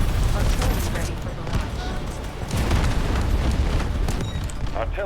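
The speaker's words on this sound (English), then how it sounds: "Artillery cover coming." Artillery barrage in the Delta Force Hawk Ops video game: dense, continuous booming and rumbling explosions roll on without pause, loud and close, with gunfire and battle noise mixed in.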